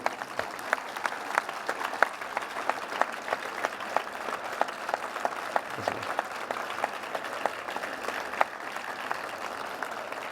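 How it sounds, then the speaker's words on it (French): Audience at the opening of the 2026 Paris Book Festival applauds the Japanese guests of honour, a steady, dense round of clapping from a large crowd that holds evenly for about ten seconds with no speech over it. "je voudrais que nous les applaudissions"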